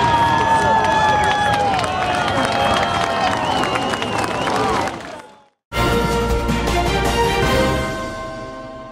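A crowd applauding and cheering a festive Victory Day fireworks show in Obninsk, a dense steady wash of clapping and voices mixed with lingering whistles, which cuts out briefly before resuming.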